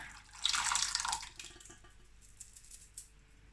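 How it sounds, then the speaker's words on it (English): Water with vegan caviar pearls splashes and trickles through a sieve in a brief pour, loudest at the start, then tapers to faint drips. "So I'm just gonna pour it through a sieve."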